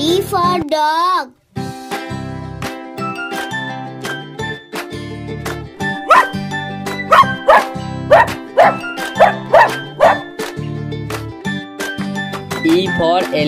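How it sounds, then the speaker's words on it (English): Dog barks and yips punctuate a children's alphabet song, a run of short rhythmic barks over steady music and sung vocals, loud and close in the mix. "D for dog. D for dog."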